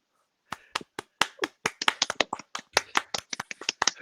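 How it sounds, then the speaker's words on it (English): Scattered clapping from a small group, starting after a short silence and building into a quick, uneven run of sharp, distinct claps that sound close and fairly loud. "a round of applause for vaginas everywhere"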